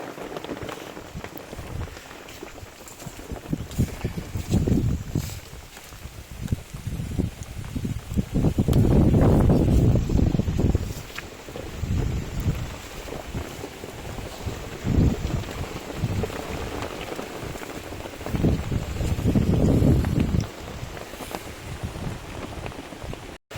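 Heavy rain pours steadily over a village dairy farm, a dense, wind-buffeted hiss with louder surging gusts and rumbling bursts near the microphone, and no talk.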